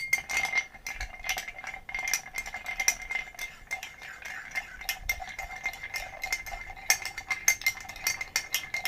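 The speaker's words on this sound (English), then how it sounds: "Give it a good stir." Spoon stirring a Viniq Ruby and grenadine drink, with steady quick clinks and rattles of metal against glass close up, continuing alone for several seconds.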